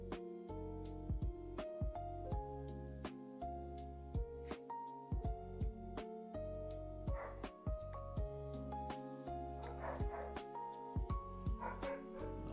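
Several dogs barking and yipping in bursts from another room, moderately loud and repeated across the span, over a steady background hum with no talking.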